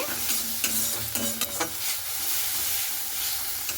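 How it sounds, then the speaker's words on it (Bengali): Egg and onion stirred and fried together in a pan, a continuous sizzle broken by a few sharp scraping strokes of a spatula in the first half, close and clear with no talking. "তারপরে পেঁয়াজের সঙ্গে খুব ভালো করে এভাবে আমি নাড়াচাড়া করে নিচ্ছি"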